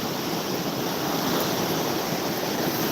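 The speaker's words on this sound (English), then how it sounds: "those waves that keep coming up, those are like over 3-foot waves" Turbulent floodwater on the White River churns with waves over three feet high, downstream of Mud Mountain Dam, a loud, continuous roar of rushing water mixed with wind buffeting the microphone, with no voices.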